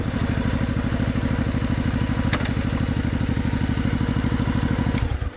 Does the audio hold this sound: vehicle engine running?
yes